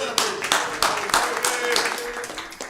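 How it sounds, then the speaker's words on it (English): Audience applause at a live comedy show, a broad steady wash of clapping with sharp individual claps standing out, loud and continuous for the whole stretch, with a few voices mixed into the crowd. "Everybody give a hand, a round of applause for Peggy."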